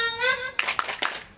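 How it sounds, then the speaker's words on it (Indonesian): A sung or chanted voice is followed by a group of women doing a short rhythmic clapping chant during an ice-breaking session, with a few quick, close claps. "Coba semuanya tepuk semangat."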